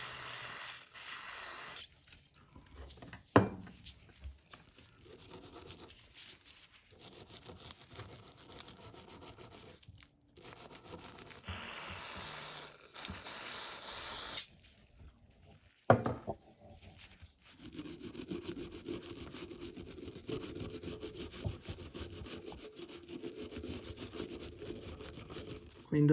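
Old Craftsman ratchet parts, roughly 90 years old, being scrubbed clean by hand with a brush in repeated rubbing strokes, broken by short pauses and a few sharp knocks from the parts. The scrubbing is close and fairly loud, with no talking.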